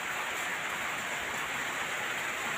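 Heavy rain falling steadily on a night, a dense unbroken hiss of drops that stays loud and even throughout with no voices.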